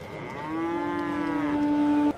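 A buffalo gives one long, low, drawn-out moo that swells and then cuts off, close and clear with no talk over it.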